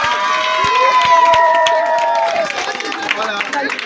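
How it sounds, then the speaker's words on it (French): A school crowd at the Centre Scolaire les Livres in Brazzaville cheers and applauds a newly crowned Miss, with high excited shouts and children's voices over scattered clapping, loud and close. "on applaudit pour elle"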